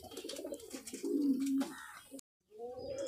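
Fancy pigeons in a breeding cage coo in low, soft, throaty bursts, with a drawn-out coo in the middle, mixed with nearby shuffling and background noise; the sound briefly cuts out before the cooing resumes.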